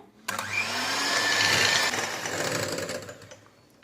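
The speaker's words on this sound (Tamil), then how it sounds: "எக்கு பீட் பண்ணும்போது ஒரு 5 to 10 minutes ஆகுது பீட் பண்ணோம்." An electric mixer whips eggs for a marble cake batter, a loud, steady high whirring that kicks in abruptly, runs for a few seconds and then tapers off as it stops.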